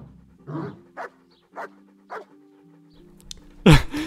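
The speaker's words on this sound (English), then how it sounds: "That dog does sound like Satan." A dog in the video game Kingdom Come: Deliverance pants and huffs in a series of rhythmic breaths, then lets out one sudden loud, growling bark.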